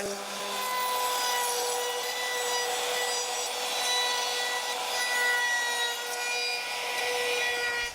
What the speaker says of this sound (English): So let's do some sanding.